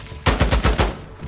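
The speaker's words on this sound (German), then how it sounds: "Hör auf zu schießen, es hat doch keinen Zweck." A quick burst of about five rapid gunshots in the video game Days Gone, loud and close, over in under a second.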